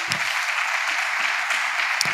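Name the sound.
church congregation applause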